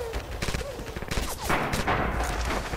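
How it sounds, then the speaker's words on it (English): Rapid gunfire crackles in Red Orchestra 2 infantry combat, a dense fusillade of sharp shots and bursts, some close and loud, others more distant, continuing without pause. "Enemy fire!"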